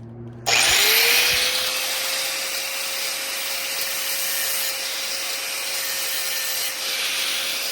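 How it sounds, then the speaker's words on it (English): A power tool cutting a notch into a metal screwdriver head starts abruptly and runs at a steady high whine with a harsh grinding hiss. It is close and loud and continues for several seconds with no talking. "I bet if I clean up that screwdriver head and cut a little notch in it"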